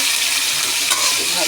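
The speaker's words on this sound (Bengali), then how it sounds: "এবারে সবজিটাকে নাড়িয়ে চালিয়ে নেব" Vegetables fry loudly in a pan while being stirred, a close, bright sizzle with a quick scrape of the spoon partway through.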